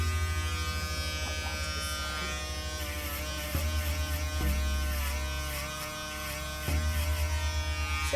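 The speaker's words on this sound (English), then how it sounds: "So here's my foil trimmer." An electric foil trimmer buzzes steadily and close during a low fade haircut, a continuous high whine that shifts slightly in pitch as it moves against the hair.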